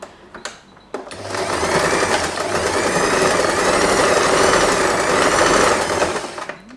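A sewing machine runs steadily, stitching the elastic band of a long-tail fabric scrunchie, its close, loud mechanical whir holding for several seconds after a couple of brief clicks.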